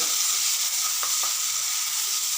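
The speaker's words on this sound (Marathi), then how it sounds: "आपण त्यामध्ये ज्या वाटीमध्ये मसाल्यांचा पेस्ट केलेला होता तो घालायचा आहे" Spice masala paste frying in oil in a pan over medium flame for an aloo baingan curry, a steady bright sizzle with a couple of brief stirring scrapes.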